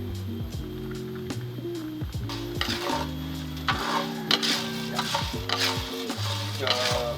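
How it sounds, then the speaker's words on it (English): Kopi Luwak coffee beans are stirred while they roast in a pan. A tool scrapes and rattles through them in repeated strokes over a constant sizzling hiss, close by and fairly quiet, with no talking. "We're roasting the coffee in here."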